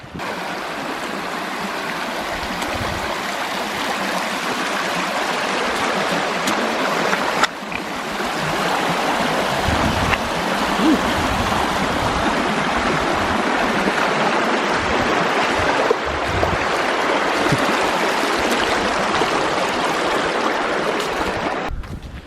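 Feet wade into a knee-deep river crossing on a backpacking loop trail in Arkansas, with a loud, steady rush of flowing water and splashing that goes on without a break.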